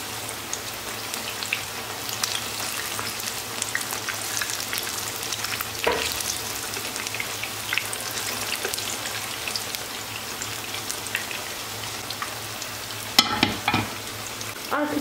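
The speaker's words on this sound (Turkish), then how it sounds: "Şimdi patlıcanlarımı atıp kızartacağım." Steady crackling sizzle of eggplant frying in hot oil, a dense rain-like hiss with occasional louder pops and clatters near the end.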